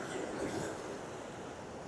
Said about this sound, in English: can hear the sound of the waves.